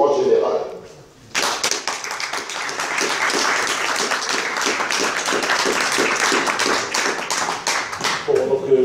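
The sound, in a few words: audience applause at public meeting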